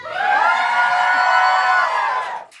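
A live audience at a podcast recording in Edinburgh lets out a loud, sustained cheer with whoops and shrieks, holding strong for about two seconds before dropping off sharply.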